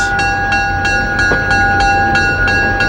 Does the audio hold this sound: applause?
no